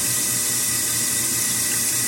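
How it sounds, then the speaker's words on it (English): A KitchenAid Superba dishwasher, freshly patched, fills with water in a steady, continuous rush and hiss that stays close and even throughout, with no voices. "You can see the patch right there, and it's taking water."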